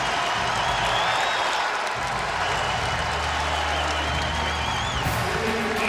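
A sold-out basketball arena crowd applauds a Friars scoring run, dense, loud clapping and cheering filling the space steadily throughout, with a low crowd rumble beneath.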